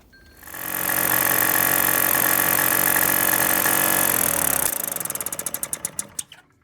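A Solex moped engine, a 1700 being replaced by a 3800, runs loudly on a test bench with a steady buzzing drone, then is cut off and sputters through a few fading, uneven firing pulses before stopping.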